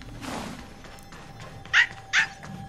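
Two short, sharp dog barks from a dog in the video game Honkai: Star Rail, about a third of a second apart, standing out clearly over a soft, steady game background.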